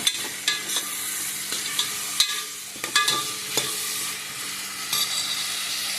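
Onion and tomato frying in a pan for a vegetable pulao made with ration rice: a soft steady sizzle with occasional clinks and scrapes of a spoon stirring.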